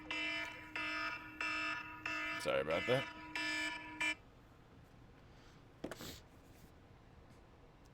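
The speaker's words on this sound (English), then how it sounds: "That's the wake up and check the charts alarm." A phone alarm rings with a bright, repeating electronic melody, about four loud bursts over four seconds, then cuts off. Someone briefly speaks afterward.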